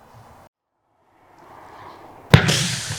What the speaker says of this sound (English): what you heard then was a bird scarer